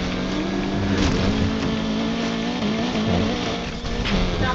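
A 1988 Mercedes-Benz 190E racing in NFS Unbound, its engine droning loud and steady with a rising boost whine, tire noise and shifting revs throughout.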